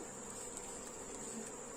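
Bees swarm around a wooden hive box that has been rubbed with onion, making a steady continuous buzz that holds level and close throughout with no pauses.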